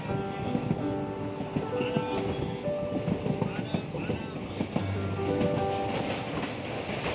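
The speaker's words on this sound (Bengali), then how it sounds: "2 মিনিট পরে আমাদের ট্রেন আবার ছেড়ে দিল" Kanchan Kanya Express rolling on after leaving New Mal Junction in the Dooars, a steady rumble and rattle of the carriages with faint rhythmic clicks, heard from inside the train, with some voices in the background.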